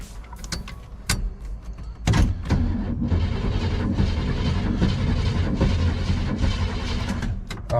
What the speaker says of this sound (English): I'm just going to contact the starter.